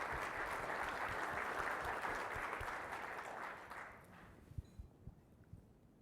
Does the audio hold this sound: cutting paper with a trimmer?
no